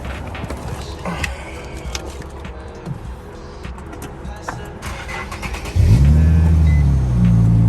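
Over outdoor background noise and a few voices, a car engine suddenly fires up near the end. Its exhaust gives a loud, deep rumble and a short rev that then settles.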